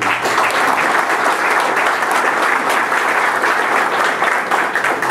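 A crowd applauds an elected councilor at a ceremony in Cañete province, Peru: a loud, continuous wash of dense clapping filling the whole stretch without letup.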